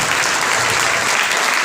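Steady, dense applause from a large church congregation at an Advent service, continuous and loud for the whole moment, with no voices standing out.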